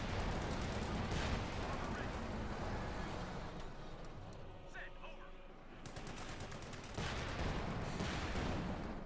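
Artillery bombards a gun position in Company of Heroes 2, a dense and loud barrage of booming shell impacts and gunfire that eases briefly midway before surging again, with commentary voices running underneath.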